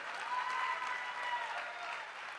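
A church congregation claps together in a sustained wave of applause, moderately distant and even, with a faint voice rising briefly over it.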